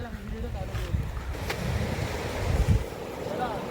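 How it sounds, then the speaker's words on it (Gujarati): Sea waves roll in at Dwarka beach at night, a broad surging wash with gusts of wind buffeting the microphone and a couple of swells. "આ જો બીચ, દ્વારકાનું બીચ. પાણી વધતું જાય"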